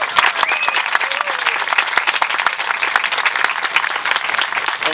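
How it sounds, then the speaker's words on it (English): A room full of people applauds after a Houston Parks and Recreation introduction, dense steady clapping at close range with no break, a few faint voices underneath. "give him a big round of applause"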